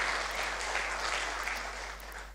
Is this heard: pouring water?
no